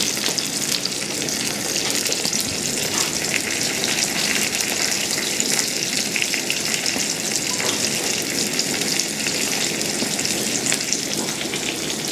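A5 Japanese wagyu beef fries in a pan, giving a steady, close, loud sizzle with bright crackling spatter that runs the whole time with no talk.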